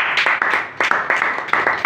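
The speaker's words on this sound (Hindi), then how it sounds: "तो सबसे पहले तो सिस्टर लियोना के लिए एक बार जोरदार ताली" An audience claps for Sister Leona, loud and close, a dense round of applause with irregular overlapping hand claps throughout.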